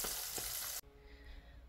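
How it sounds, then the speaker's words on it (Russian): Sardines frying in a pan give a steady, dense sizzle for most of the moment, then it cuts abruptly to a much quieter low hiss. "Поэтому я сейчас жарю, не знаю, как будет на вкус."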